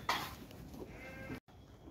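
Young lambs bleating on a farm, crowding in to eat lamb-rearing feed. The calls are dense and fairly close, with a clatter like a feed pan or metal trough and a brief silent gap near the end.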